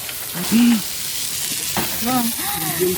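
Pork belly sizzles and spits oil over a coal briquette grill in a vinyl greenhouse restaurant, a steady close frying hiss with a few pops, while people talk briefly over it.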